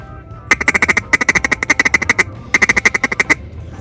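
Duck feed call blown for duck hunting gives rapid bursts of clipped quacking notes, three close, loud runs of quick pulses separated by short pauses.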